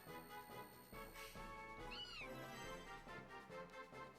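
A kitten Pokémon's cry from Pokémon Sapphire sounds once in the middle as a short rising-falling synthesized meow over continuous game music.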